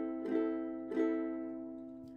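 A minor chord on a ukulele, strummed twice about half a second apart, each strum ringing out and slowly decaying, close and clear with no talking.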